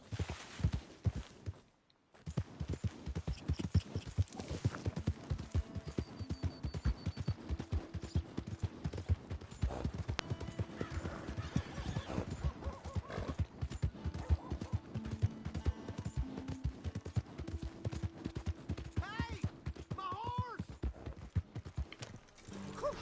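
Horse hooves clip-clop steadily in Red Dead Redemption 2, a continuous rhythmic trotting close by that runs through most of the stretch, with a brief gap near the start and occasional faint game sounds and tones mixed in.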